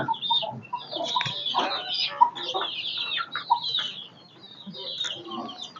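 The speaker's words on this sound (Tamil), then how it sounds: "இதுதான் பார்த்தீங்கன்னா தலை சுற்று வந்துகிற கோழி" Native country chickens on a small-scale poultry farm cluck and murmur nearby in short, irregular bursts, a few calls overlapping at close range.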